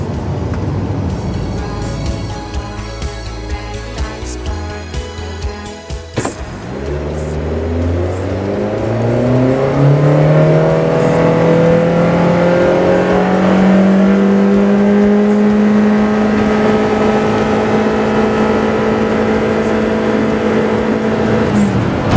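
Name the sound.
Honda Mobilio CVT car accelerating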